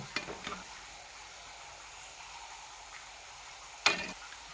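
Targa, a Dasara festival snack, frying in oil over a medium gas flame, giving a steady faint sizzle with a couple of sharper crackles near the start and one bright pop toward the end.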